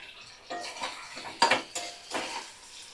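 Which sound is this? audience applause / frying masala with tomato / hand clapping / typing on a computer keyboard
frying masala with tomato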